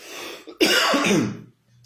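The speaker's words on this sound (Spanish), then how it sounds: "un poquito de tos" A single close cough during a Spanish-language talk, a short throaty burst followed by a brief gap and quiet breath.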